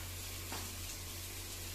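A pork tail fries in a dry pan with no oil, giving a faint, even sizzle over a low constant hum.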